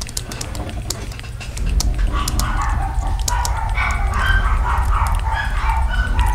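Several dogs bark repeatedly at a moderate distance, an overlapping chorus of yaps and barks over a steady low rumble of explosions in the background, growing louder after the first seconds.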